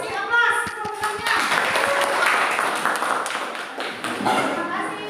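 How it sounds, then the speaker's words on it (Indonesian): Classroom audience applauding after a group presentation: a sustained wash of close, many-handed clapping that swells after a few scattered claps and holds steady, with voices faintly mixed in. "Kasih aplaus semuanya"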